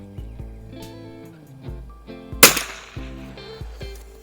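A single sharp crack from a Mossberg 146B bolt-action rifle fired at an outdoor range at 25 yards, loud and close, heard once amid quieter clicks and background tones.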